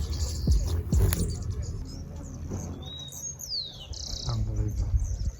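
In Colombia, hummingbirds feed from hand-held feeders, with high, thin chirps and squeaky calls over soft fluttering and light handling noise from the feeders held nearby.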